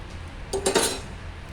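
A knife cutting through a bread omelette on a plate or pan, giving a brief cluster of clinking, scraping utensil contacts at close range over a quiet background.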